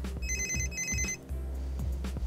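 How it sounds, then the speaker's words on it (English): A phone rings from a call placed by a Galileo GSM Shield: a repeated electronic double trill in two bursts, close and clear over low background knocks, with no speech. "And here's the phone call."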